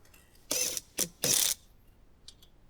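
Three quick ratchet bursts, close and crisp, separated by short pauses, spin a 22 mm bolt down on a front brake caliper of a GM crossover such as an Enclave, Acadia, Traverse or Blazer.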